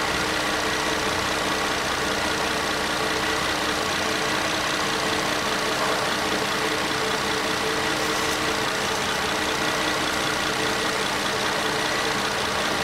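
A 2010 Nissan Murano Z51 engine idles steadily with a continuous, even mechanical hum and faint ticking, close and unchanging throughout, with no voices.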